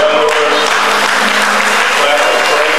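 A church congregation at a Sunday service breaks into thick, continuous clapping, many hands together in a loud, even roar that fills the room for the whole stretch.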